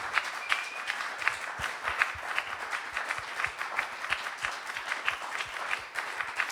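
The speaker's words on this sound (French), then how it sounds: "on l'applaudit bien fort" Audience at an intimate concert applauding the singer, a moderate crowd clapping steadily with a few individual claps standing out, fairly close, with no talk over it.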